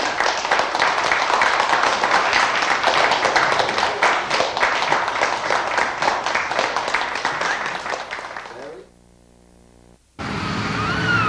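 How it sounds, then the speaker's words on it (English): Loud, sustained applause from an elementary school audience after a puppet show, steady and dense for about eight seconds before cutting to near silence, then another burst of noise at the end. "Give a nice round of applause, everybody."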